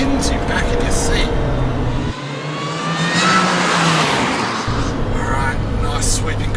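Car engine pulled hard from 3,000 RPM under full throttle, a loud continuous roar that rises in pitch as it accelerates, with someone talking over it.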